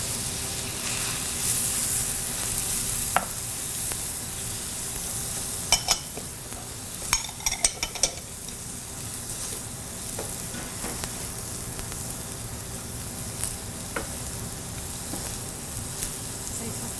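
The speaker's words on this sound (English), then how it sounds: "So she's just rapidly stirring the soy sauce or the stir fry." A beef stir fry with soy sauce stirred rapidly in a pan, steady sizzling with a scattered run of scraping utensil strokes, close and moderately loud with no talk.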